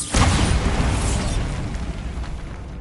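Bombarda spell explosion in the video game Hogwarts Legacy: a deep booming blast that hits immediately, then a rumbling, crackling decay fading over a few seconds.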